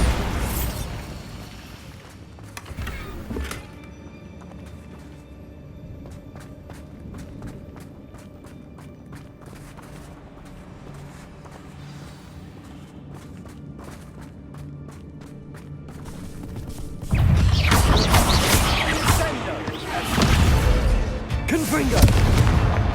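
A Bombarda spell explosion in Hogwarts Legacy: a quieter stretch of footsteps and game ambience gives way to a loud, booming blast with crackling debris near the end, and a voice speaks over the game sounds.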